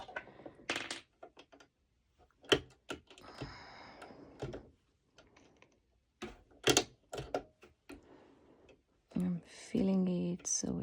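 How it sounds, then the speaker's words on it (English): Bikini fabric being stitched on a sewing machine with the presser foot lowered: scattered light clicks and taps, then a short, steady mechanical whir of stitching near the end. "I just lowered my presser foot, and I'm actually first doing a few stitches"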